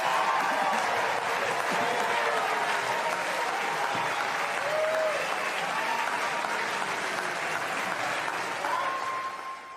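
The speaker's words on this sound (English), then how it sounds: "That very diverse crowd at CPAC stood up to give a standing ovation to a fascist." A large crowd at CPAC in Dallas gives a standing ovation, sustained loud applause with scattered cheers and whoops that holds steady throughout and fades slightly at the end.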